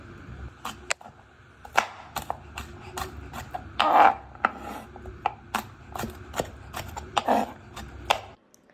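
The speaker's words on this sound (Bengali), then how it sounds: "এবার আমি একটু রসুন ছাড়িয়ে নিচ্ছি" Garlic cloves being peeled by hand make crisp, irregular clicks and papery rustles up close, a dozen or so short cracks spread over several seconds in a quiet kitchen.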